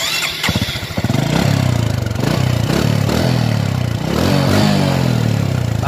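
A 2008 Honda Future Neo motorcycle with a stock exhaust cranks and fires up nearby, catching after a brief starter clatter, then settling into a throbbing idle with a couple of light blips of the throttle.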